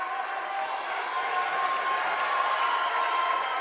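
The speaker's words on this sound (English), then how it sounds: "Crowd going nuts for the senior." A basketball arena crowd at Lynn roars steadily in a dense, sustained wash of cheering and applause, loud and continuous throughout, for a senior's three-pointer in a Tampa men's college game.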